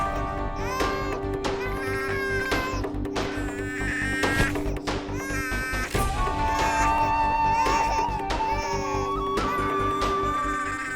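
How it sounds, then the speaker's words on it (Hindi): A baby wails on and off for several seconds in an indoor family scene from a Hindi TV drama, with loud, strained cries over a steady musical background. "बहुत ज्यादा रो रहा है,"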